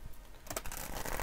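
Tarot or oracle card decks being shuffled by hand during a card reading, a quick rapid riffle of crisp papery flutters, close and fairly loud, with no talk.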